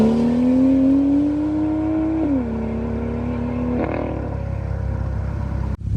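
A BMW M2 fitted with an M Performance exhaust revs hard, its engine note climbing steadily, dipping as the revs shift, then holding and rising again, loud and close with a sharp cut at the end; nobody speaks.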